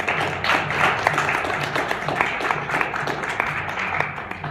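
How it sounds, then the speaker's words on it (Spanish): Applause from the audience at a poetry round-table event, dense and steady clapping from a modest crowd that runs unbroken for several seconds at moderate volume, with faint murmuring underneath. "Un aplauso, por favor."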